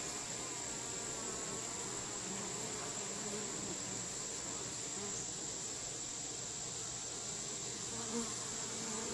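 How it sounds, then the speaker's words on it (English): Bees buzzing in the air in front of a beehive, a steady, dense insect hum that continues unbroken throughout at moderate volume. "I've seen six or eight in the air in front of a hive waiting for an opportunity to crawl in."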